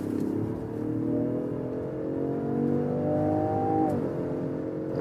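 A Range Rover Sport engine revving in S shift mode as it accelerates, a steady rising growl climbing in pitch through the gears and then dropping after a shift near the end, with no talking.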